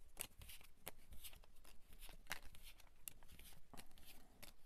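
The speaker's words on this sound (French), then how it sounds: "Et je bats pour un second tirage." Tarot cards are shuffled by hand, a quick series of soft riffling flicks and slaps, close and quiet, with no talk.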